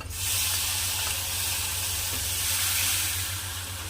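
Tomatoes added to a pan of hot oil and chili powder sizzle for a dry cowpea (chavli) bhaji, giving a steady, close frying hiss with a faint low hum beneath it and no talking.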